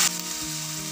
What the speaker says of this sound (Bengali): এইবার আমি এর মধ্যে দিয়ে দিচ্ছি 1 কাপ গরম জল।